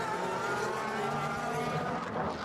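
DTM race cars at the Nürburgring in 2010, a steady loud engine roar of cars running close together without any break, held at full volume throughout with no talking.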